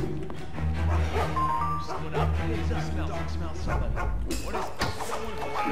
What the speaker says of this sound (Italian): Che palle sto cane di merda